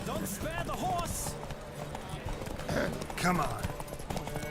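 A horse gallops in a race in The Witcher 3, rhythmic hoofbeats with occasional snorts under game voices and a player talking over the action.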